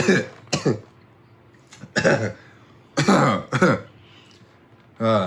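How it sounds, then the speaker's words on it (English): Several short, sharp coughs or throat-clearing bursts come in separated clusters, fairly close and loud, with quiet gaps between them. "probably shouldn't be coughing in these times, huh?"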